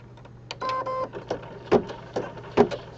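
Home embroidery machine stitching a cauldron base in light gray thread on a 4x4 hoop, giving steady mechanical whirring with tonal motor hums and sharp periodic clunks of the needle.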